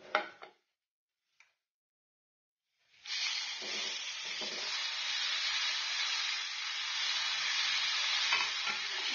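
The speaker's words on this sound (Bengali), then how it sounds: "এরপর আমি দিয়ে দেব গ্রেট করা পেঁপে।" Grated raw papaya goes into a hot pan for a chutney and is stirred. After a few faint taps, a loud, steady sizzling hiss starts and continues close by.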